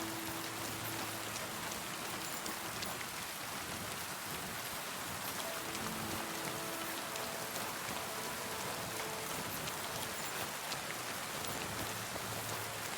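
Steady rain falls in the medieval world of Kingdom Come: Deliverance II, a dense continuous hiss of drops on surfaces with no breaks, moderately loud and even throughout, with faint low tones drifting underneath.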